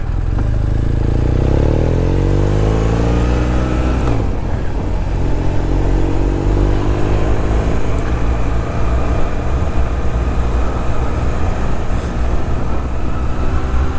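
Motorcycle riding in summer heat, a loud steady engine drone with a falling then rising pitch as it shifts into first gear and pulls away, wind noise throughout, no talk.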